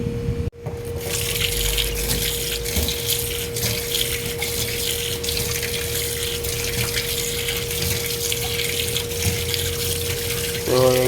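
Tap water runs steadily into a sink while beef for pares is rinsed, a continuous loud gushing hiss with a faint tonal hum underneath, briefly cut off near the start.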